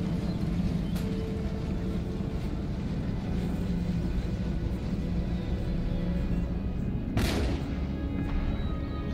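Artillery booming across an Empire Total War battlefield under a steady low rumble, with one sharp distinct shot late on and a fainter one early, no voices.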